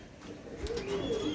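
Pigeons, a male and a female, give soft low coos in a short burst, fairly close and moderately loud over faint background hiss.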